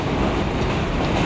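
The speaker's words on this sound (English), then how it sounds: "southbound train." A southbound train rolls past near the old Yankee Stadium site, a steady, loud, continuous rumble of rail cars with faint clickety-clack, heard alone without voices.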